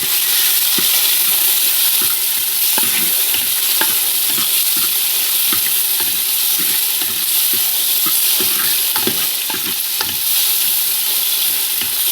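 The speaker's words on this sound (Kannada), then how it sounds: "ಪುದೀನ ಸೊಪ್ಪು, ಕೊತ್ತಂಬರಿ ಸೊಪ್ಪು ಎಲ್ಲ ಮಿಕ್ಸ್ ಮಾಡೋದು. ಚೆನ್ನಾಗಿ ಫ್ರೈ ಆಗಬೇಕು." Mint and coriander leaves with onion are stirred and fried in a pot for bamboo biryani. A loud, continuous sizzle is broken by regular scraping strokes of the stirring spoon, with no voices.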